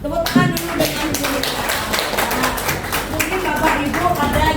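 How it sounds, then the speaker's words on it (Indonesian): A school audience at a teacher dissemination session claps steadily for several seconds, dense and continuous applause filling the room close to the listener. "Tepuk tangan dulu dengan Bu."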